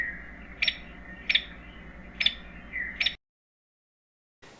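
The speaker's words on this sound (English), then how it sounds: "Hairy woodpecker says," A hairy woodpecker gives four sharp, high call notes spaced roughly evenly over three seconds, clear and fairly close above a low background hum, then silence.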